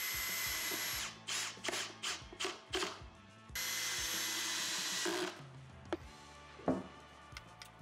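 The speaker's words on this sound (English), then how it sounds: "So I'm just gonna drill some holes underneath it, countersink some screws, screw this fence into place" A power drill bores holes into the wooden fence of a woodworking miter jig: long steady whirring runs alternate with a series of short trigger bursts, loud and close, with no talking.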